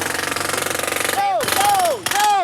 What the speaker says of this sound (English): do you think you can just, like, stop the drill for 5 minutes?